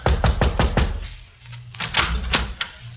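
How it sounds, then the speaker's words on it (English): Someone knocks on an apartment door on the second floor: a quick run of four firm raps, a short pause, then a second shorter set, close and solid, with a bit of low background rumble. "knocked on the door of 2A"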